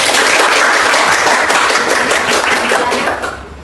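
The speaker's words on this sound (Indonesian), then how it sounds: "Beri tepuk tangan." A classroom of students breaks into dense, steady applause that holds for a few seconds and then tapers off at the end, with no talking over it.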